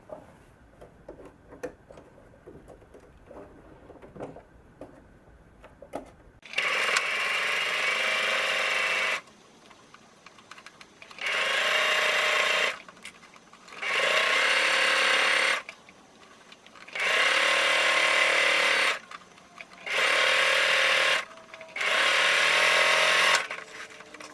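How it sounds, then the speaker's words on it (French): A sewing machine stitching elastic onto a pocket runs in six loud bursts of rapid whirring, each a few seconds long, separated by short quiet pauses with faint handling noise before the first run. "on va coudre, on va dire, à 2 mm du bord, ici, sur l'élastique"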